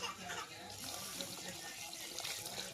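Water running and splashing steadily into a cooking pot with soya chunks for biryani, a continuous close-up pouring and trickling sound throughout.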